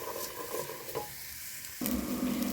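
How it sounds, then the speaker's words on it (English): Garlic sizzles in a frying pan while being stirred, a close crackling fry that briefly quiets before the scraping, hissing sizzle surges back louder; nobody speaks. "as I'm stirring, you can see all of that goodness is going to come off the pan"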